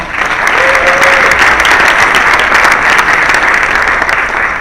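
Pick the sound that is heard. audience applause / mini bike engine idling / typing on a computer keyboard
audience applause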